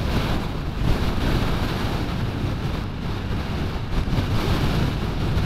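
Heavy wind roars continuously against a motorcycle rider's microphone, a dense low rumble with slight gusts and no talking.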